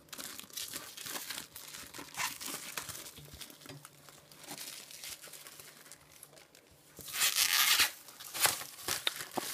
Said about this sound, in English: Let's rip the plastic off.